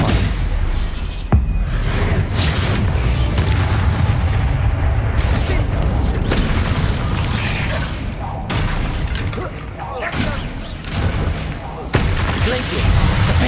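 Stupefy spell impacts in Hogwarts Legacy: repeated loud magical blasts and booms crack through a dense, continuous layer of combat effects, with sharp hits recurring every second or two.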